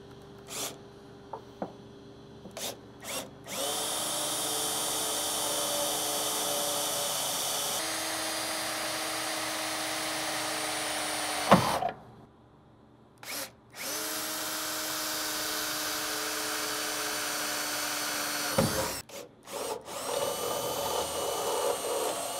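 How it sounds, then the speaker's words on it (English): A power drill runs in long sustained whirring bursts while pre-drilling holes and opening them up with a stepper bit for 7/16 hardware on a Toyota Tundra bed, with brief pauses between bursts. "I'm going to pre-drill with a small one, and then I'm going to use a stepper bit"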